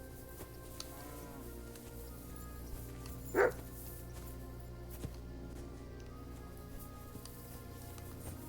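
A single dog bark in the video game Kingdom Come: Deliverance 2 rings out once at mid-distance over a steady, low ambient game background, with no talking.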